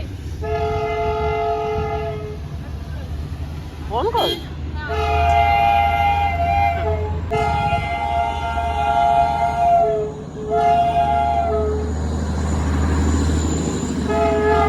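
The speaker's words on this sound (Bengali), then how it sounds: "ওই দেখুন ট্রেন আসছে" A Darjeeling toy train approaches on the Batasia Loop, its horn blowing in long repeated blasts over a steady rumble of wheels and running gear, with a few brief words spoken nearby.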